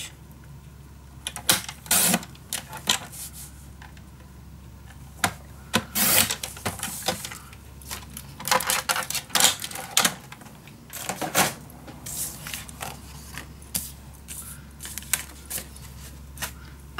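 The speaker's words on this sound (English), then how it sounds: "so now I'm going to cut 4 strips, 1/2 inch." Half-inch paper strips being cut for a vintage winter mini album: close, irregular scraping and crisp cutting strokes come in bursts with handling rustles between them, over a low steady hum.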